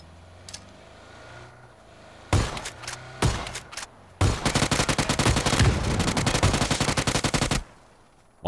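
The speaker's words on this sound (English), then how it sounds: "I'm taking shots from across the street" Rapid bursts of gunfire in a shooter video game, a few separate heavy shots followed by a long sustained automatic volley, loud and close with no talk over it.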